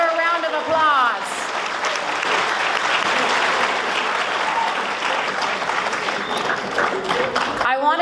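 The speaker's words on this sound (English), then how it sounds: "Vikings, give her a round of applause." High school students in a gathering give the California Secretary of State a round of applause, a broad wash of clapping and some cheering that starts after a voice speaks and stops abruptly at the end.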